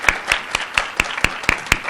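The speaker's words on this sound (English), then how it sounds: "So I think that deserves a round of applause as well." At a community college graduation ceremony, sparse, evenly spaced claps ring out about four times a second. The sound is crisp and fairly loud, like a small group clapping rather than full-hall applause.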